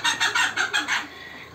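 Chickens in a backyard poultry coop with bamboo perches give about six quick, close, bright clucks in an uneven rhythm, then fall quiet.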